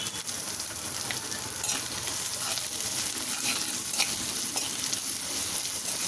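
Chopped onion sizzling and being stirred in a frying pan while making vegetable Manchurian balls, a steady close crackle with scraping stir strokes, no voices.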